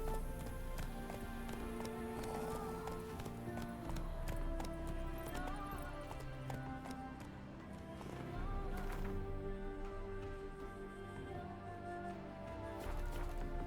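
Roach, a horse in The Witcher 3, gallops with steady rhythmic clip-clop hoofbeats under a continuous bed of game music and ambience, moderately loud and close throughout.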